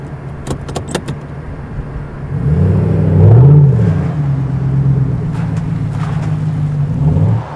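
A Rally Fighter car being driven through water during rear brake system testing, its engine rising in a loud, steady drone that swells in the middle and holds to the end, with a few sharp clicks early on.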